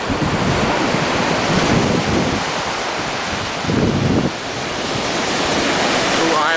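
Surf breaking on Kata Beach in Phuket makes a continuous loud wash of waves mixed with strong wind buffeting the microphone, with no clear voices.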